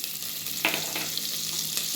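Butter going into hot sesame oil in a pan gives a steady, close sizzle and fry hiss that runs unbroken for about two seconds, with a few brief louder crackles and no voices.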